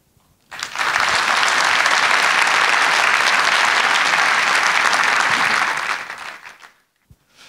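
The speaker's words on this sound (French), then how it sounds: "c'est quelque chose qui mérite effectivement vos applaudissements" At the presentation of the Ingérop Grand Prix for Innovation, a large audience breaks into sustained, even applause that rises abruptly, holds strong for about five seconds, then fades into quiet.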